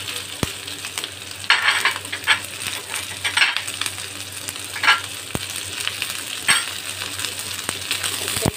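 Diced onion and capsicum sizzle in a hot pan while being stirred, a steady frying hiss broken by scraping bursts and a few sharp clinks of the spatula against the pan.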